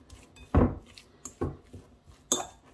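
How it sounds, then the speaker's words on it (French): Olive oil, salt and pepper stirred with a spoon in a dish as bread dough is prepared, giving three distinct clinks and scrapes spaced about a second apart, fairly close and alone. "Je vais mélanger tout ça."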